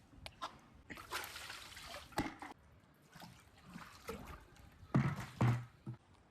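A bucket of water is thrown across a rooftop terrace to wash it in hot summer weather, landing in several separate splashing bursts with quieter trickling and dribbling between them.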